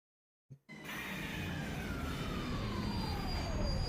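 A video game train in Master Detective Archives: Rain Code, heard as a short clank followed by a steady, loud rushing rumble with a long whistling tone sliding downward, alone without voices.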